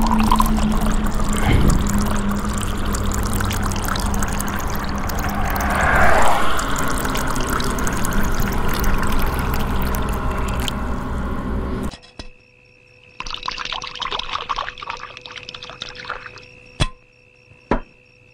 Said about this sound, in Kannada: ಸೊ 1 ಲೀಟ್ರ್ ಕಂಪ್ಲೀಟ್ ಪೆಟ್ರೋಲು ಒಂಚೂರು ಚೆಲ್ಬೇಡಿ.